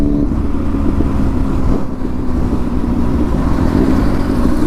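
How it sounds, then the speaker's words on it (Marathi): A group of superbikes rides past on a road near Someshwar Mahadev temple in Nashik, a steady, loud, close engine drone that holds throughout. "सगळ्या सुपर बाईक होत्या"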